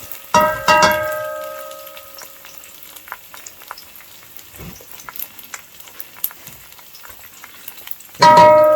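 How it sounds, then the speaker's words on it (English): An egg sizzles and crackles in a non-stick-free pan over high heat while making hot dog fried rice, with a clatter at the start and end and faint ticking sizzle in between. "Let the egg simmer up a little bit or cook a little bit"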